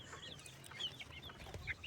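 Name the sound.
chickens and chicks clucking while eating feed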